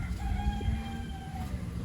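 Free-range Rhode Island chickens on a farm, with clucking and a drawn-out crowing call close by over a busy rustling background.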